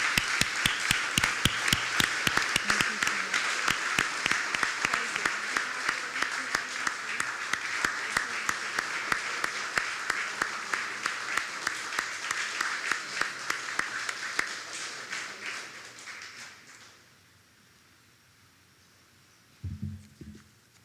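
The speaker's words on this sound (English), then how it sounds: "And we applaud you." An audience at a 9/11 memorial commemoration in Newton applauds a scholarship winner, with dense sustained clapping that fades out around seventeen seconds, leaving near silence and a brief low thump near the end.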